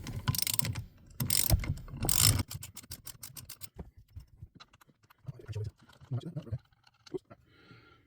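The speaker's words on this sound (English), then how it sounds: "can I get to it with a normal ratchet? It does appear to be the case. So we'll undo that one." A hand ratchet working a 13mm nut loose under the dash of a Jaguar XJS V12 6.0 facelift, a few bursts of rapid clicking followed by softer scattered clicks and fumbling, with faint sounds of someone close by.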